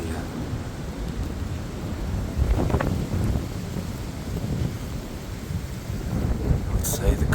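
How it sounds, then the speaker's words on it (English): Storm Eowyn's gusts, around 50 miles an hour, roar through a local park in a heavy, rumbling rush that swells and ebbs across the whole stretch, loud and close with no talking. "I'd say the gusts are around 50 miles an hour at the minute."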